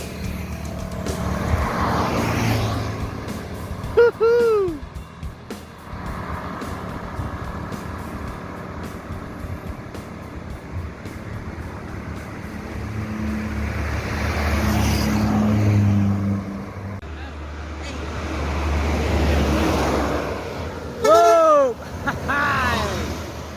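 An ANS intercity bus from Java pulls into the Roda Minang bus yard, its engine rumbling and drifting close with several short horn blasts and a hiss of brakes, amid yard noise and a few background voices.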